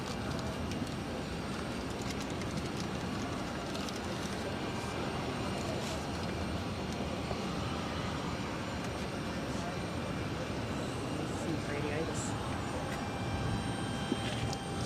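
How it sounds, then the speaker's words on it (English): Delta Connection Embraer E175 airliner taking off at Boston Logan, a steady broad roar of jet engines heard from a distance and holding evenly throughout. "Delta Connection 5630 taking off to Charlotte on the E175"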